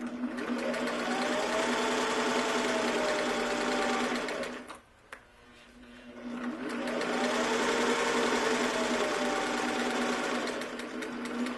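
A sewing machine stitches a pillow closed with a loud, rapid mechanical hum and needle chatter, running for several seconds, pausing briefly, then running again at a steady pace.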